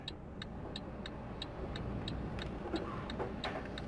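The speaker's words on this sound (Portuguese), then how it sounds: "Ligar aqui nosso Mercedes." A Mercedes truck engine in Euro Truck Simulator 2 idles steadily after starting, a low continuous rumble with a faint regular ticking above it, driven through Scandinavia.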